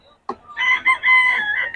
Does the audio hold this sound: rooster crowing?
yes